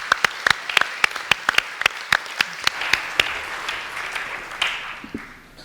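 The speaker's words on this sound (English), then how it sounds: "Give everyone another round of applause." A crowd at an upper school assembly applauds with sharp, distinct claps at first, then merges into a steadier wash of clapping that fades toward the end.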